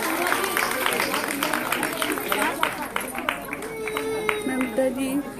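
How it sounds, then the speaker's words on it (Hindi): Audience applause at an award ceremony, a steady wash of clapping from a crowd with some chatter and a sustained tone underneath, moderately loud throughout. "जोरदार तालियां इनके लिए।"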